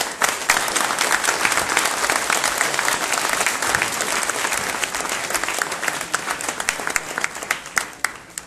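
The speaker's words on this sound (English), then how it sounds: "a big applause" An audience at a tech meetup on data infrastructures claps after a presentation, a steady wash of applause that gradually thins into scattered individual claps toward the end.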